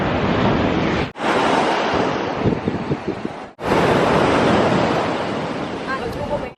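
Ocean surf pounds the shore at Nusa Penida, Bali, in loud, continuous broadband roars broken by two brief gaps, with heavy wind buffeting the microphone and no voices.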